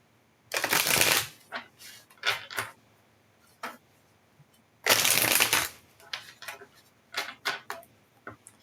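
Tarot cards being shuffled by hand in two long riffling bursts, close and fairly loud, with scattered shorter taps and card flicks between them and no talking.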